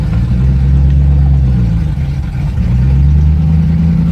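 A 1971 car engine running loud and close in first gear, a steady low rumble with gentle revving swells and a slight dip midway, no talk.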